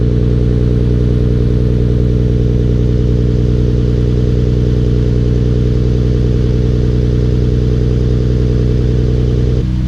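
A Nissan GT-R's engine holds a steady, loud, low idle-like drone with strong harmonic hum throughout, dipping slightly at the very end, with no talk.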